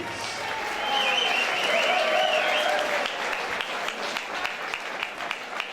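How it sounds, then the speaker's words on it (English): A crowd at a Fightmax tournament fight event claps for both fighters, a dense sustained burst of applause that swells and then thins into scattered claps, with a voice faintly under it. "A big round of applause for both fighters, please."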